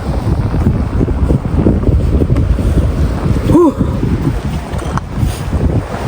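Strong wind batters the microphone in icy Greenland, a loud continuous roaring rumble with gusting surges and a brief tonal whistle partway through.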